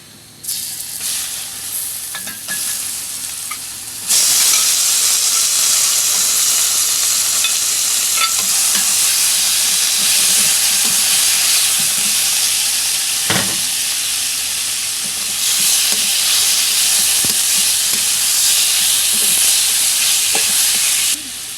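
Taro leaves go into a pan of garlic already browning in oil for a Bengali dish with hilsa fish head, and the sizzle jumps to a loud, continuous hiss, broken by stirring scrapes close up.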